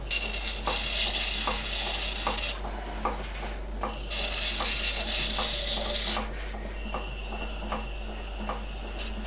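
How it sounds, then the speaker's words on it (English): A small clay teapot lid turns on a potter's wheel as a trimming tool scrapes it, giving a continuous rasping hiss with regular soft ticks each rotation over a low motor hum; no talking. "So when you're trimming a lid like this, what are the things that we're considering?"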